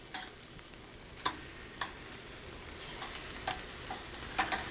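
Chicken thighs sizzle right over the fire on a Slow 'N Sear travel kettle grill, a steady soft crackle broken by a few sharp pops and spits.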